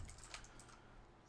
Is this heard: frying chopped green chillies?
no